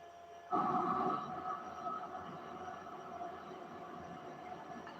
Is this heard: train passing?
yes